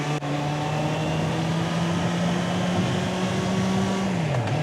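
Motorcycle cruising on a Japanese expressway near Mount Fuji, its engine humming steadily with a sustained tone that dips slightly near the end, wrapped in constant loud wind rush and road noise.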